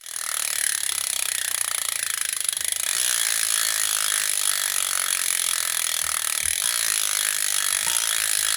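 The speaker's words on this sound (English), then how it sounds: "this is the Brommy Plus 2-speed rear wheel, and it's actually quite lightweight, and I actually like the way this one sounds" Rapid steady ratcheting clicks from a lightweight Brommy Plus 2-speed bicycle rear wheel hub as it freewheels, a fine, continuous mechanical chatter heard close up and alone.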